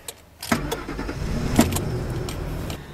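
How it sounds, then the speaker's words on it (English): A 1950 DeSoto pickup truck engine starting and then running, with a brief crank catching into a steady, moderately quiet engine rumble with a few mechanical clunks. "We'll see if I can go hot rodding around in the pickup now."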